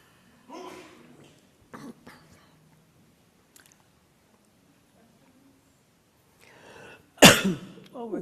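Soft murmuring and scattered small noises from an audience at a talk, then one sudden loud explosive cough near the end, followed by a brief tail.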